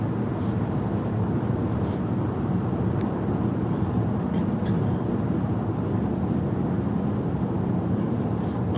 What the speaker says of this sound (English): excuse me for the background noises. I am in the car